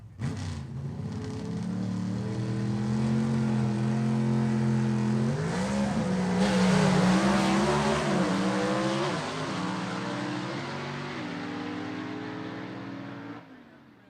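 Two mechanically fuel-injected gasser drag cars launch at a dragway event, their loud engines roaring and rising in pitch through the gears, then fading into the distance as they run down the strip.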